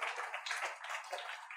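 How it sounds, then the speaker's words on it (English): An audience at a keynote talk applauding volunteers, a dense patter of many hands clapping, steady and fairly soft. "Round of applause for our volunteers."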